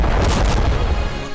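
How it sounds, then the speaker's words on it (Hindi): A huge explosion tears through a cargo ship struck by a ballistic missile at sea, a heavy close boom with a rolling low rumble that fades over about a second. "जबरदस्त धमाके का ये वीडियो इजरायली मालवाहक जहाज का बताया जा रहा है"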